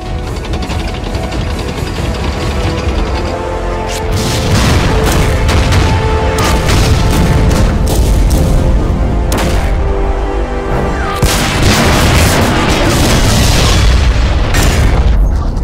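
Tank battle in a cartoon, with heavy artillery fire and explosions booming continuously, loud dense blasts and crackling bursts layered one over another without a break.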